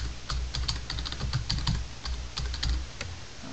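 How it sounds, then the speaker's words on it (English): Typing on a computer keyboard while entering text in Microsoft Word on Windows 7, a quick irregular patter of close, crisp key clicks with no talking. "I'm just going to type in Business Award"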